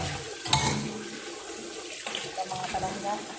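Tap water runs while something is washed, a continuous splashing trickle with a brief louder gush near the start and faint clinks, fairly close.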